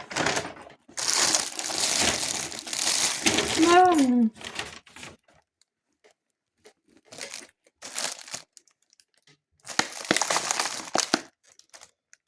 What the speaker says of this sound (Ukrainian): починаємо розпаковку другого пакета